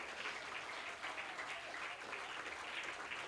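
Church congregation applauding in a steady, fairly quiet wash of clapping that holds evenly throughout, with no voices standing out.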